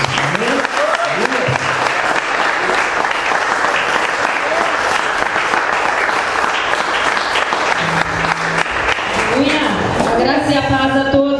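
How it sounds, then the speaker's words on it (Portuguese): A church congregation claps loudly and steadily for a long stretch, dense applause filling the room with voices and some singing-like tones audible underneath toward the end. "vamos dar uma salva de palmas ao Senhor Jesus"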